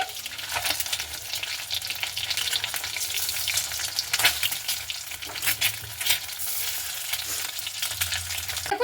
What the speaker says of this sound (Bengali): তো দেখুন এইভাবে আমি হালকা করে উল্টে নিচ্ছি